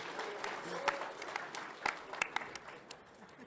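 An audience claps during the closing session of the ShmooCon 2024 security conference, with scattered, moderately distant applause and a few sharp individual claps, while voices murmur underneath.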